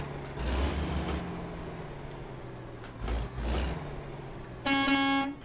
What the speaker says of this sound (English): I will say the truck does sound really good.